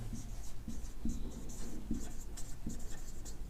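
Chalk or marker scratching on a board during a maths class, a series of short scraping strokes in quick irregular rhythm, close and moderately loud, with no talking over it.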